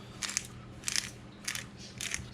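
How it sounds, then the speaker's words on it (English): A hand salt grinder grinds salt over a salmon fillet in four quick, crunchy bursts spaced about half a second apart, close and fairly quiet, with no talk. "Take your salt, grind away."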